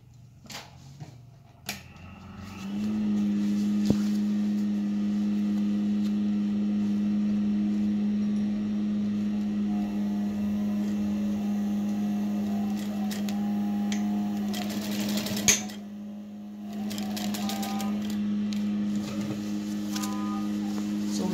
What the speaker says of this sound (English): We are sewing together on both lining and main fabric.